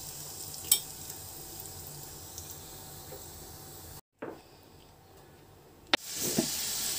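Cumin seeds and asafoetida dropped into hot oil, a soft steady sizzle broken by a brief drop-out and then a sharp, louder burst of crackling frying, with no talk.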